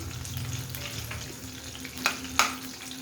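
Green chillies frying in hot oil in a home kitchen, a steady close sizzle with soft crackling and two sharper pops near the end, no voices.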